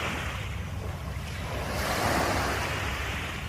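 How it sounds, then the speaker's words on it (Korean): Pacific Ocean waves wash and lap continuously against the shore on Bohol island, Philippines, a soft, steady rush with a gentle swell in the middle. "파도가 지금 찰싹거리고 있습니다."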